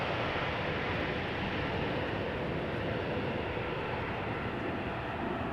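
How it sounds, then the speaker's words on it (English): Embraer E2 and Airbus A220 jet engines roar steadily at Amsterdam Schiphol Airport, a continuous, moderately distant broadband rush with no breaks. "Nice to have an E2 behind an A220 so you can hear both engines."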